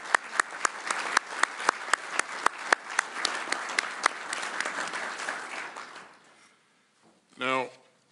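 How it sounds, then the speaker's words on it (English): An audience at a US defense secretary's address on the war in Ukraine applauds, with sharp individual claps standing out over a steady clatter that fades out after about six seconds, followed by a brief voice. "Let's give them all a round of applause."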